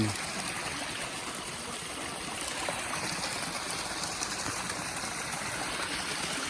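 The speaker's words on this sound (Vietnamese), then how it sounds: "Suối này đẹp nhá mọi người ơi. Có nước tràn ra cục đá này này." Stream water spills over rocks near a waterfall in a steady, close, full rushing wash that never lets up, with no voices over it.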